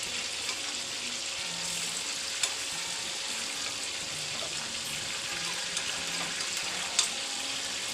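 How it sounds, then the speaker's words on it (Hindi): Chicken sizzles steadily in a pan as it browns to golden, a dense even frying hiss with faint occasional clinks and stirring, with no talk over it. "सारी चिकन को मैं गोल्डन होने तक फ्राई कर लूँगी"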